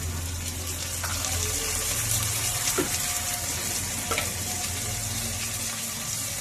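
Dried red chilies and tomato frying in a pan for biryani give a steady, close sizzle with crackling bursts and faint stirring, no talking over it.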